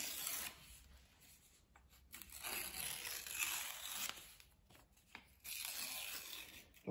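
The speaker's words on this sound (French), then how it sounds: "on déchire les bouts." Someone tears the ends off a sheet of paper up close, in several rough ripping bursts with short quiet pauses between them.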